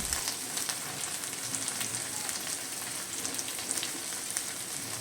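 Mustard paste, ground coriander, cumin, turmeric and salt frying together in a pan for a tangy khoira fish curry with hog plum, giving a steady, even sizzle and hiss throughout at moderate level, with no voices.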